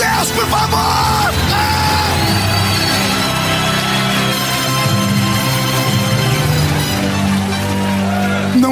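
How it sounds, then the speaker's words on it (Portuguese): A church congregation at a Pentecostal service erupts in sustained loud shouting and yelling of praise, a dense continuous roar of many voices lasting several seconds. "dá um berro de glória a Deus"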